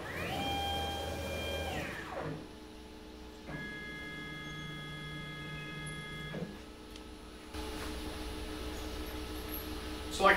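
A CNC router's stepper motors whine as the machine jogs toward a tool change position, several separate tonal moves with short quiet gaps between them and a faint voice in the background.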